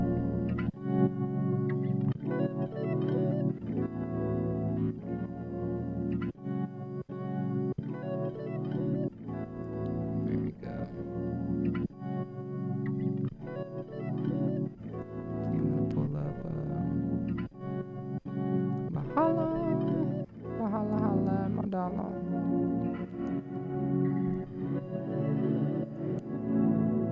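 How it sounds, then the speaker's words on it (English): A beat built in Ableton Live plays with a simple reverb on it, distorted and effected sustained tones pulsing in steady bars, continuous and fairly quiet, with no talking. "I'm just doing a nice, simple reverb"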